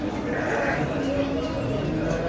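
Sheep at a small-livestock market bleat loudly and close up in a short burst, heard under a busy background of market noise.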